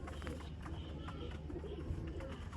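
Soft cooing of Sialkoti pigeons blends into a low, busy murmur of birds, steady throughout with no voices.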